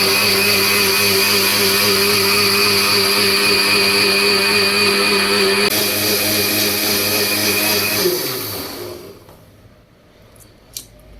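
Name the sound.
blender grinding cream to make butter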